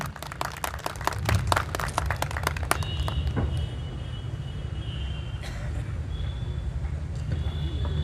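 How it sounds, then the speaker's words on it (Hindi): An audience at an international expo fair in Patna claps, a burst of sharp, dense clapping for the first few seconds that thins into scattered claps and background crowd hum. "एक जोरदार तालियां होनी चाहिए।"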